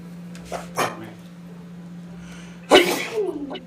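A single sharp sneeze near the end, preceded by a couple of brief soft vocal sounds and a steady low hum.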